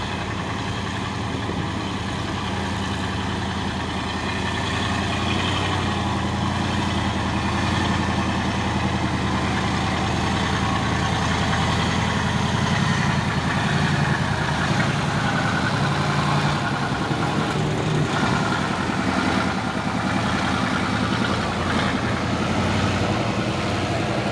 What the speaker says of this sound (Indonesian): ini juga ada satu nih truk Fuso oren melewati tanjakan Bukit Kodok di pagi hari